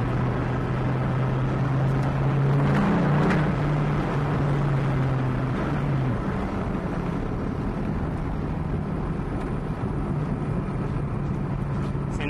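A Dodge Viper pulls through its intermediate gears on the road, a sustained low engine drone rising slightly in pitch under steady road and wind roar, heard from inside the car.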